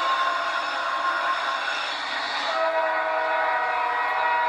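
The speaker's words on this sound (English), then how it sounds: "blow that train. I want to see that horn coming off." Loud, sustained multi-tone train horn played over a stadium sound system at a Dallas Cowboys NFL game, a steady blast that shifts pitch slightly partway through and holds for several seconds with no talk.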